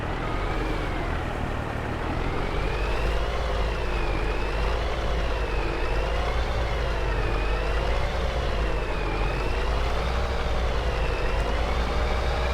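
A long-chassis truck in Farming Simulator 22 runs steadily with a deep engine drone and a wavering whine rising and falling over it, continuous and fairly loud with no talk.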